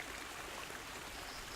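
A flowing forest stream in the video game Kingdom Come: Deliverance makes a faint, steady, even rush of water that runs unbroken throughout, with no voices.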